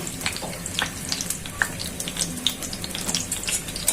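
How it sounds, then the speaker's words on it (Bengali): Chopped garlic and onion fry in hot oil for jute-leaf greens, with a soft, continuous crackling sizzle and scattered sharp pops, close by and fairly quiet, no talking. "এখন শাক ভাজি করার জন্য রসুন কুচি দিয়ে দিচ্ছি, সাথে দিচ্ছি পেঁয়াজ কুচি"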